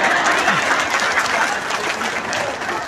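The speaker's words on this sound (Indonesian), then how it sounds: "oh ya tepuk tangan lagi nggak apa-apa" Women in the audience at a Koranic study gathering in Cilamaya, Karawang, applaud, a dense, sustained wash of many hands clapping together from start to finish.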